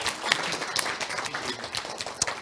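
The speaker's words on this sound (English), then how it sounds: "I'd like to ask everyone to give another round of applause" Audience applause following presentations at an open education event, a fairly thin smattering of clapping with distinct individual claps standing out, moderately close and without talk.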